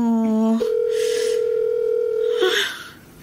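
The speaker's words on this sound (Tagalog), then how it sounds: "Ring lang din ng ring ang cellphone." A cellphone call tone after dialing a number: a steady electronic tone sounds loud and close, shifting pitch once early and cutting off near the end, with faint room noise.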